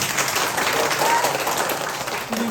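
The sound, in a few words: congregation applause in church service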